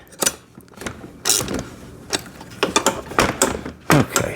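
Wrench tightening 12 and 13 millimeter bolts on a VEVOR 6V battery-powered kids' ride-on motorcycle, heard as a series of close, sharp ratcheting clicks and metallic bursts in irregular spurts.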